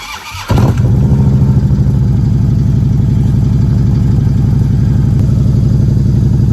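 A motorcycle engine starts up and settles into a loud, close, rumbling idle with a steady throbbing rhythm.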